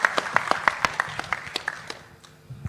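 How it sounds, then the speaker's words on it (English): A small audience at a national seafood exports workshop claps for the commerce minister. About a dozen sharp, distinct claps come close together at first, then thin out and fade within a few seconds. "Give a big applause for him."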